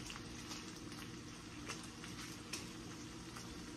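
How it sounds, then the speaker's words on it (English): Butter melting and sizzling in a pan alongside sausage for jambalaya, a steady, dense hiss that stays even throughout with a few faint crackles, close and fairly quiet. "The butter here is still melting"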